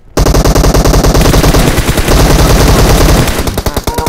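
Loud rapid automatic gunfire in a shooting video game, a continuous fast burst of shots that fills nearly the whole stretch before breaking into a few separate shots near the end.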